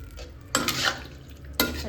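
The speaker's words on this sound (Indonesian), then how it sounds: "Aduk lagi." Spoon stirring vegetable soup in a cooking pot, two brief scraping bursts close up over a low background hum.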